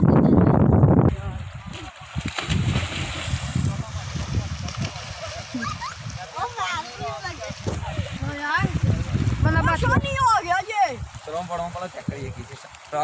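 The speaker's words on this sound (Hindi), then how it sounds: "ये देखें जी पानी का बहाव कितना ज़्यादा तेज़ है।" Rushing, splashing water flows strongly throughout, with people talking over the steady churn.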